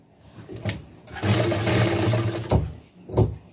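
A sewing machine re-stitching the waist seam of a pair of pants runs in one sustained burst of close, rumbling whirring, set between a few short thumps and pulls of fabric.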